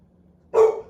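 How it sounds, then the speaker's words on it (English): A single short bark from a dog indoors, a sharp burst that trails off quickly against a quiet background hum. "She barking, somebody outside."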